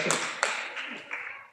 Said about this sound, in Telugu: కొన్ని చప్పట్లు కొట్టండి బాబు.